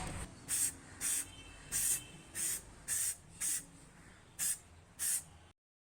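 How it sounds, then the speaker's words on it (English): Black Rust-Oleum spray paint is applied to a slightly rusted brake rotor in short touch-up bursts, about nine evenly spaced hissing sprays, close and clear with no talk. "I am using the black Rustolium to just touch up a little"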